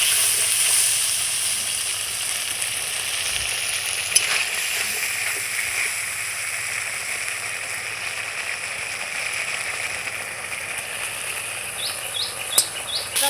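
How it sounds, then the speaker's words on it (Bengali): Spice masala with salt and turmeric sizzling steadily in oil in a pan for a potato and cauliflower dalna, a constant close fry hiss with a couple of sharp clinks, no talk. "দিয়ে খুব সুন্দর করে এবার আমি মশলাটাকে কষিয়ে নেব।"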